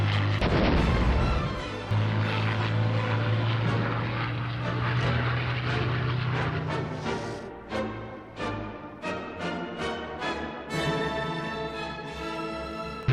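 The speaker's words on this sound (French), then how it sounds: "Le Taube, Colombe en allemand, et au départ un avion de reconnaissance. Il est utilisé sur Paris comme bombardier." A WWI German Taube propeller monoplane, a reconnaissance aircraft later used as a bomber over Paris, drones loudly and steadily, with sharper bangs and thumps breaking through in the later seconds.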